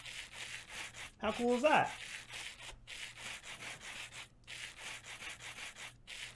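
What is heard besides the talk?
sanding rose quartz with sandpaper in Minecraft Create mod, video game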